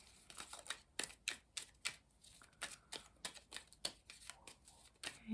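Rapid, crisp riffle bursts of a deck of cards being shuffled, repeating several times in quick succession, close and fairly quiet with no talking.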